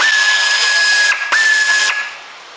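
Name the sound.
pneumatic air tool removing air box bolts on Ford Fiesta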